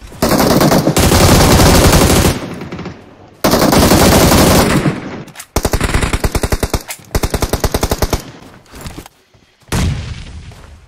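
Long, loud rapid-fire bursts of automatic gunfire from a BGMI battle royale match, several sustained volleys separated by brief pauses, close and harsh with no talking.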